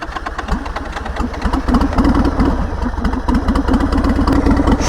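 Turbocharged Buell M2 motorcycle engine with about 66,500 miles running steadily with a rough, clattering mechanical rhythm, close and loud throughout, rising slightly in intensity after the first second.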